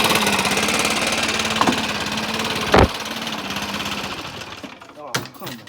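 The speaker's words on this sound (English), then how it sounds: "let me rev it up" A Stihl BR 600 backpack blower engine runs loud and rough close by, with a sharp knock partway through, then sputters and fades out, leaving a few clattering bursts.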